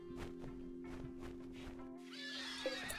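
A manhunter mare in the RimWorld video game neighs and whinnies repeatedly, loud and close. The whinnies come in a rising and falling series over a steady hum, with hoof clip-clop mixed in.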